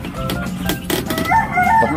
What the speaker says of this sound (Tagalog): Itong mga broiler po.